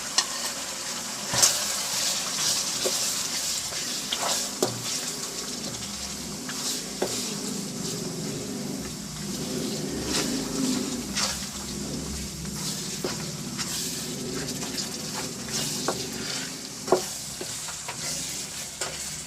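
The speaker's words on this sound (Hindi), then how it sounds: "भूनेंगे इसको 5 मिनट तक।" Beetroot mutton masala with ground coriander and salt fries steadily in a pan, a continuous low sizzle broken by occasional scrapes and taps of a stirring spoon.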